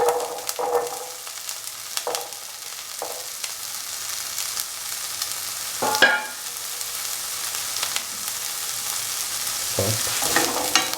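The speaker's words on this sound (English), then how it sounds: "Put in the shallots or pearl onion and oil." Shallots or pearl onions frying in oil in a hot pan, a soft steady sizzle with intermittent scraping stir strokes, near and moderately loud, no voices.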